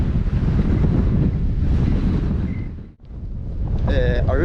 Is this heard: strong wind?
yes